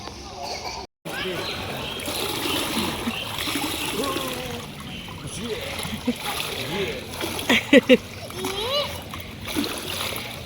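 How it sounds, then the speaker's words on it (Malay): Water splashes and sloshes as a child bathes in a swimming pool, with a burst of brighter splashing near the end, heard beneath children's and adults' chatter. "Mandi swimming pool."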